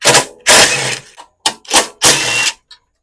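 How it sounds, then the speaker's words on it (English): Ratchet backing out 8mm bolts from a snowblower pull cord assembly, giving several loud close bursts of rapid clicking separated by short pauses, each burst ending with a small tap. "there's three 8mm bolts holding the pull cord assembly on. So we're going to remove those guys."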